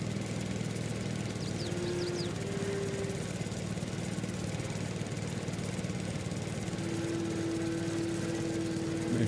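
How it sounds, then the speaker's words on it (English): Steady engine drone of a mower cutting a grass field in Farming Simulator 22, a continuous even hum with a faint high whine, constant and unbroken throughout. "This mower is just making easy light work out of this field."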